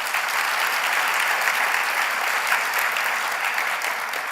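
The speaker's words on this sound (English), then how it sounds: "So one more round of applause for Bob Urey." An audience at an annual meeting gives a steady round of applause, a dense even wash of clapping throughout.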